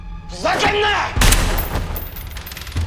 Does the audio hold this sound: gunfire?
yes